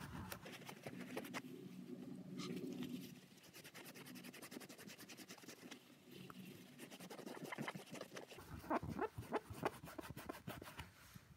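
Cloth rubbing over a laser-cut acrylic enclosure panel, alternating wet and dry sections, gives a close, steady rasping scrub with irregular squeaky strokes, picking up in brisk bursts toward the end.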